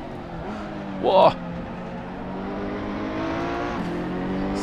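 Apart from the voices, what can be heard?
race cars driving in Assetto Corsa video game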